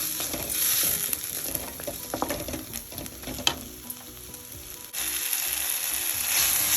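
Chopped tomato sizzles and fries steadily in a hot pan while being stirred, cooking down for a mutton liver pepper fry, with scraping utensil sounds and a brief lull before the sizzle returns.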